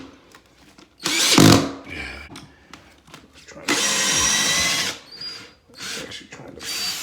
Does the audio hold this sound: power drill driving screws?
yes